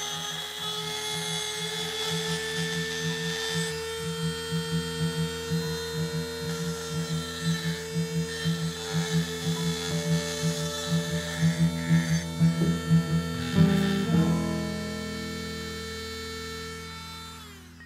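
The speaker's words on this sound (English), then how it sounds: "Step two, I'm gonna chamfer the bottom of the axe eye." A power tool chamfers the bottom edge of a steel axe eye while re-handling an axe head, giving a steady whine with pulsing grinding bursts that build toward the end, then the motor winds down.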